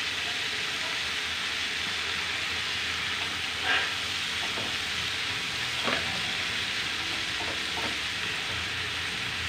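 Green fried rice with added salt sizzles in a pan in a dense, even hiss. Two or three faint scraping stirs come through the steady frying noise, and no one speaks.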